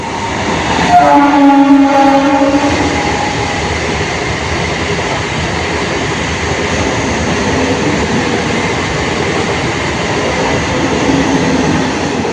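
Train running through Kothapally railway junction without stopping, opening with a loud horn blast, then a sustained close roar of wagons rumbling and clattering past.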